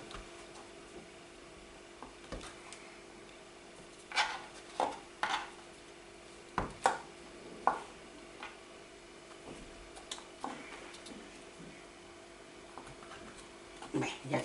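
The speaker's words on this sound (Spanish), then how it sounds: "vamos a cortar el quesito" A knife cuts cheese into cubes on a board, a series of soft, close taps and clicks spaced irregularly, quiet with a faint background hum.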